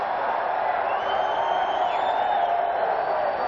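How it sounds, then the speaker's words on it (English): A hockey arena crowd at the 1984 Canada Cup final roars steadily as a wave sweeps around the stands, a dense, sustained wash of cheering with occasional rising whoops. "This crowd's getting excited here. This wave's going around 3 or 4 times."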